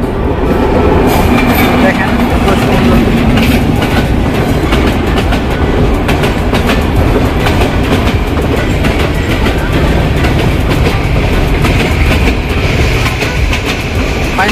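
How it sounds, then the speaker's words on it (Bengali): A fast train thunders through a rail crossing on a Bangladeshi line toward Netrokona, with a loud, close roar and rhythmic clickety-clack that carries on throughout, and a voice speaks briefly over it. "ফাইনালি ট্রেনের অনেক স্পিড"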